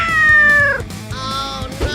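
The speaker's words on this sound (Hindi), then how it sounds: "पकड़ो इस बिल्ली को" A cat meows loudly and close, two drawn-out cries in a row, the first long and falling, the second shorter and higher, over faint background noise.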